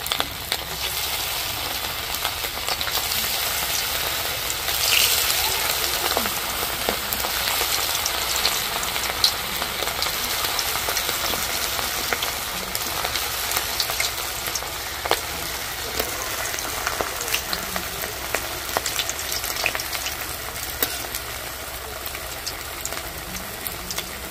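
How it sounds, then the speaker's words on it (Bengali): Steady crackling sizzle of sago pakoras deep-frying in oil over low heat, continuous and fairly loud for the whole stretch, with small pops scattered through; no speech. "অল্প আঁচে হালকা করে ভেজে নেব"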